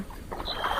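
A brief splashy swish of oars pulling through water, close by and lasting under a second.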